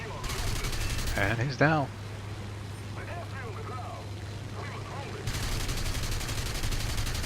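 Aircraft guns firing in War Thunder during German air combat against a King Cobra, a broadband roar of continuous gunfire at the start and again at the end, with a short gap between and a voice speaking over the middle.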